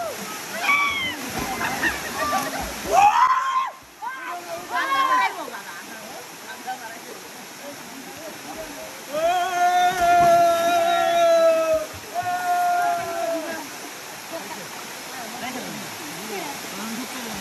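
Waterfall at Napittachhora on a hill trek in Sitakunda, giving a steady rushing wash throughout, with people talking loudly over it near the water.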